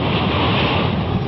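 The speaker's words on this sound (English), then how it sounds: "The counterclockwise pinwheel winds turn gentle tides into frenzied breakers." Hurricane winds roar steadily with crashing surf breakers, a dense, continuous, muffled wash of wind and water, loud and without voices.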